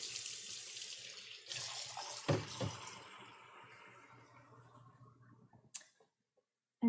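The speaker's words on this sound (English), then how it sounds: "We're gonna run these eggs under cold water and kind of cool them off" Cold tap water gushes steadily over cooked eggs in a sink, with a brief splashier burst midway, then tapers off and cuts out near the end.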